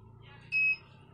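A single sustained high-pitched electronic beep from a Honda CB150R motorcycle's anti-theft alarm sounds over a low background hum, lasting about a quarter second.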